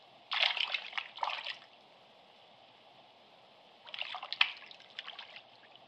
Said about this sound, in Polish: Przygotowane cienkie i elastyczne pasma zwija ciasno w gniazda i wkłada je do wiadra z wodą.